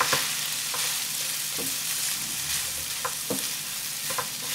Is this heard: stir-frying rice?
yes